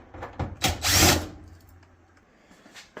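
A power drill backing screws out of a Samsung dryer's front panel, with a brief whirring burst of about half a second, a few short taps around it, then near quiet.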